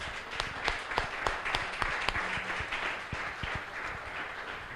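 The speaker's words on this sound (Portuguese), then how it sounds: "Pode aplaudir ao Senhor comigo mais uma vez?" A church congregation claps for the Lord during a sermon, a dense, continuous patter of many hands with sharp individual claps standing out, steady and moderately loud.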